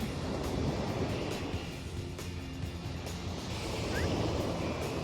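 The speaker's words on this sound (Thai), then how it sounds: "อุ้ยทะเลสวยมากค่ะ" Ocean waves wash steadily onto a beach, a continuous broadband roar with gentle surges, partly roughened by wind noise on the microphone.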